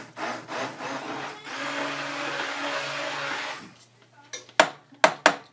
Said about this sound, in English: So I'm just going to blend this up.